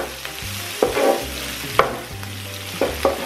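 Chorizo and pork frying in a pan, a constant close sizzle broken by several sharp scrapes and knocks of a utensil as the meat is stirred, with no voices.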